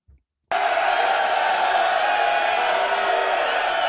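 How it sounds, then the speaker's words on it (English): Buffalo Bills fans packed into a backer bar burst into a loud, roaring cheer that starts abruptly and holds steady as a dense wall of yelling voices. "a live look at the Buffalo Bills backer bar right there, celebrating and everything"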